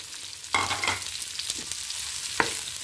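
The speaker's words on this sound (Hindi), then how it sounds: "इनको हल्का सा भूनते हैं" Sliced onions frying in hot oil in a pan, a constant sizzle with scraping stirs of a spoon coming close and clear at intervals, no voices.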